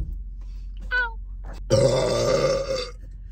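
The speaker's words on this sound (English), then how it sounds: "Can you just remix that burp for me?" A long, loud, close burp rolls out for over a second after a brief vocal sound, heard at a taste test of Mountain Dew Voodoo.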